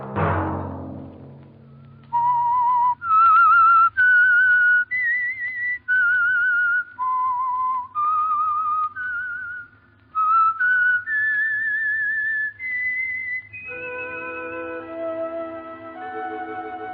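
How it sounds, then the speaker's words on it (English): A lone whistler performs the eerie signature tune of the radio drama The Whistler, a clear, sustained melody of held and gliding notes that follows a brief low rumble and ends in a wavering orchestral chord. "Let that whistle be your signal for the Signal Oil program, The Whistler"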